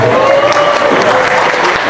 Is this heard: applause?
yes